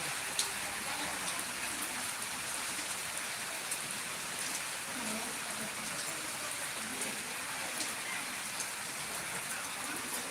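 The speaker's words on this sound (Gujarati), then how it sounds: "જાંબુગોળામાં વરસાદ જોઈ શકો છો" Unseasonal rain comes down in Jambughoda, Gujarat, an even, continuous patter and hiss of drops on surfaces, moderately loud and unbroken for the whole stretch.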